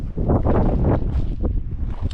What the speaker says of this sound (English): It's gonna be a little windy on here